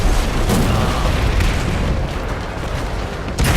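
Heavy tank cannon fire in the War Thunder battle game, aimed at a Sherman from an M6A1 heavy tank, comes as loud, dense booming rumble throughout, ending with a sharp fresh blast.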